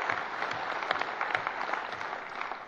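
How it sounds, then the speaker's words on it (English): Audience applause breaking into a senator's speech at an awards dinner, a steady, dense wash of many hands clapping at moderate distance, continuous and without talk. "I don't mind being interrupted for applause"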